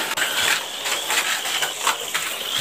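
Auldey Super 1 chassis mini 4WD car with side dampers, its small electric motor running at full speed: a loud, steady, high-pitched mechanical whir with gear chatter that holds without pause throughout.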